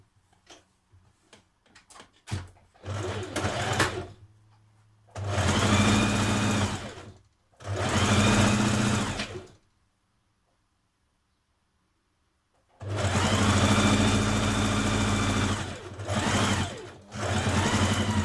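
A sewing machine stitching the side vent of a top runs in close, steady bursts of rapid mechanical whirring, separated by short pauses and a longer silent stretch.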